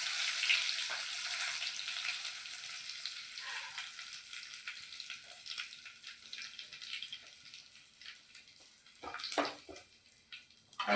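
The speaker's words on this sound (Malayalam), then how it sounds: "ഇത് ഊറ്റിക്കഴിഞ്ഞപ്പോൾ കറിവേപ്പില ഇട്ട് കൊടുക്കാം." Curry leaves frying in hot oil for a pickle, a steady loud sizzle and crackle with a few sharper spits near the end, no talking.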